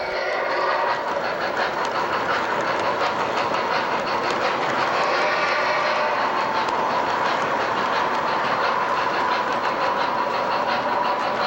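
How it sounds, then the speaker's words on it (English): Scale model locomotives on a large model railroad give off steady train sound effects, a continuous rolling rumble with faint rhythmic clicking, moderately loud and unbroken, with no talk. "They're nice, with all the prototypical sounds of those locomotives."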